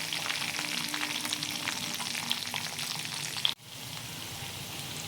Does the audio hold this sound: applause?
no